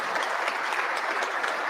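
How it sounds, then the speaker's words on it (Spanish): Steady, dense applause from a conference audience at a vocational-training educators' congress, honouring a speaker after his talk, close and even throughout with no speech over it. "Le damos un fuerte aplauso entonces a Sergio"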